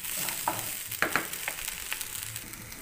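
Fried rice ingredients being stirred in a hot pan, with a steady sizzle of frying under scattered scraping clicks and clinks of the spatula.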